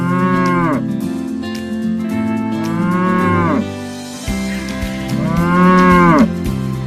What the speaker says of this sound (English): She met Cass, the cow